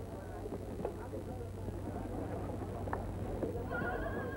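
Horse hooves clip-clop with an occasional neigh amid a busy horse-dealers' market, with steady murmuring voices and background bustle throughout.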